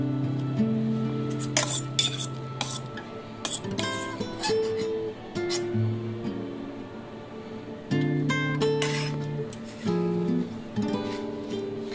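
Bhetki fish fingers being double coated in egg and biscuit crumbs in a home kitchen, with soft clinks and taps of utensils against a dish in irregular bursts, fairly quiet and close.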